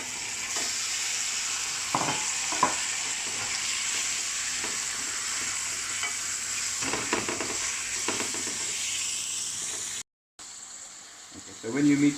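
Meat frying in a pan for black pepper curry, giving a loud, steady sizzle with occasional stirring clunks; it cuts out briefly near the end and then resumes.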